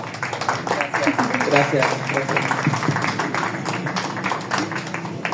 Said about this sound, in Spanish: ¿Les puedo pedir un aplauso para Samuel?